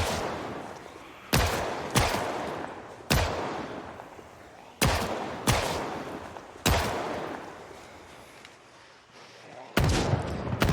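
Pistol shots in a zombie survival game: seven sharp, loud reports spaced irregularly, each cracking out and decaying into a hazy background, with no talk.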